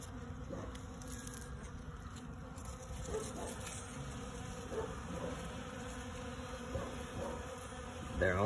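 Honey bees swarm at a hive in early spring while feeding on pollen substitute, a continuous close buzzing hum with individual bees droning past nearby.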